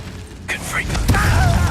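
Confringo blasting curse in Hogwarts Legacy: a spoken incantation followed by a sharp crack and a burst of whooshing blast noise, loud and close.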